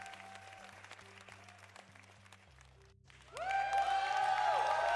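A crowd applause sound effect played during a Dungeons & Dragons homebrew review stream: faint scattered clapping over a low hum, a short gap, then a louder, brighter burst of applause and cheering that fills the end.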